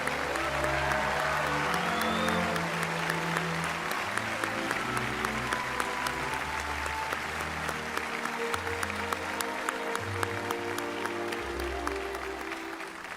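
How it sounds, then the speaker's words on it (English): Audience at the National Memorial Day Concert applauding the performers and production teams, a loud sustained ovation with sharp individual claps standing out, while orchestral music plays underneath. "join me in a round of applause for Gary and Mary and all the performers and production teams"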